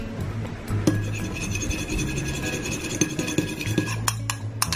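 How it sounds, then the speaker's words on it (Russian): A spoon stirs egg yolk and olive oil together in a cup for a hand mask, making steady, close scraping and clinking against the sides as the mixture is worked round. "Все перемешиваю."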